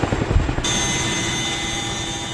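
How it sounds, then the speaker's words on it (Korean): Loud, steady drone of a military transport aircraft's engines hanging overhead at about 600 m during a parachute drop, a rougher rumble in the first half-second before a continuous, even roar. "시끄러운 엔진음이 600m 상공에 머물자 대원들은 한치의 망설임도 없이 몸을 내던진다"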